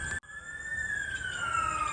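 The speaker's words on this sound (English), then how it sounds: "hence the sirens." A siren wails steadily with a slowly falling pitch sweep, fairly loud and continuous, with a brief dropout near the start and no talking over it.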